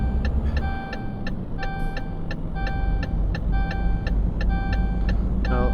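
Truck engine rumbling while rolling slowly in Euro Truck Simulator 2, a loud steady low drone overlaid by a regular series of chiming electronic beeps.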